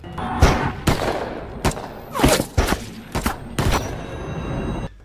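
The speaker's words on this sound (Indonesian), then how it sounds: "membuat polisi menghujaninya dengan tembakan" A rapid volley of gunshots, several sharp loud bangs in quick irregular succession, with no talking.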